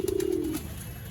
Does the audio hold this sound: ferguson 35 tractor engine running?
no